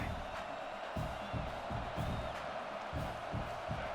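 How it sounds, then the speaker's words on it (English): Stadium crowd noise in a college football video game, a constant faint roar of cheering with rhythmic low thumps of the stadium pulse, under a voice talking. "the signals could get wonky with all the crowd noise"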